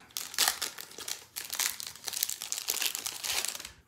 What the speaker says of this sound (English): every episode of the Old Head Show will wrap up with me opening one pack of rock cards